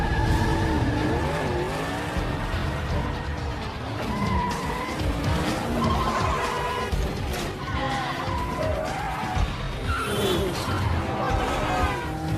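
Race cars launch at the start of a street race in an action film, engines revving and tires squealing under dense, layered music and effects, loud and continuous throughout.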